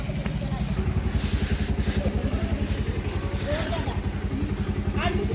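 A motorcycle engine runs with a steady, rapid low-pitched throb close by, holding a constant pace throughout with faint clatter over it.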